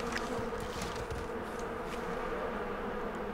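A steady, close swarm of bees drones continuously in the prehistoric video game Far Cry Primal, a dense insect hum with faint game effects flickering over it and no talking.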